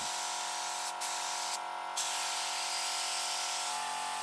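A continuous hissing, high-pitched spray from a power tool loosening rust on an abandoned car's body in a garage, running steadily with brief dips in tone, close and fairly loud.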